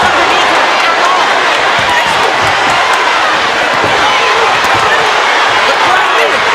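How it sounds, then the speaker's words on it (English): A boxing crowd in Flint roars at the Claressa Shields vs Danielle Perkins fight, a loud, unbroken wash of cheering and noise that holds steady throughout. "The crowd is going wild here in Flint."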